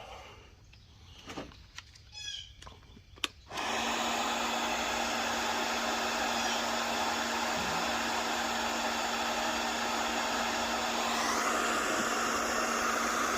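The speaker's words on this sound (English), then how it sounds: "I'm sorry if the heat gun gets in the way." A heat gun blows hot air while aftermarket headlight DRLs are wired in, starting with a few clicks and knocks, then settling into a steady, loud, even hiss that runs on without a break.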